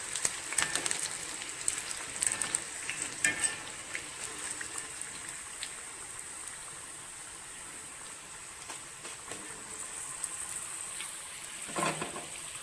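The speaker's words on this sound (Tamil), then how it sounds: "இப்போ எண்ணெயில் உள்ள சலசலப்பு அடைஞ்சிருச்சு ஒரு நாலு கருவேப்பிலையை போட்டு அப்படியே எடுத்துடலாம்" A few curry leaves drop into hot oil after frying snake gourd 65, giving a faint, crackling sizzle like light rain, with scattered pops and a brief louder spatter near the end.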